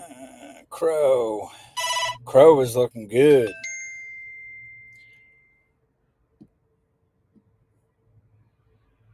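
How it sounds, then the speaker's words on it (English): A mobile phone rings with warbling, repeated electronic tone bursts mixed with a man's brief speech, then the room falls nearly silent apart from a few faint ticks. "Sorry about my phone."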